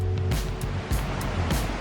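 River water flowing past a campsite, a steady rushing wash with a few brief gust-like swells.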